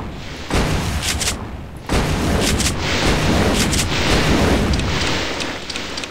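Heavy blasts and booming explosions from a split-apart Hellfire projectile in the Space Pirate mod for Doom 2, a dense roaring barrage with two sharp onsets and sustained rumbling throughout.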